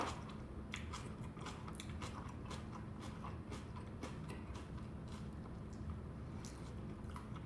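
Close, wet chewing and biting on food seasoned with adobo, with a steady run of small crunchy clicks over about seven seconds and no talking.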